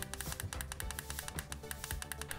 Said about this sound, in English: the power switch that sounds like this.